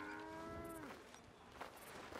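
Several cows mooing in Red Dead Redemption 2, long harmonic lowing calls in the first second, then further fainter moos among farmyard ambience.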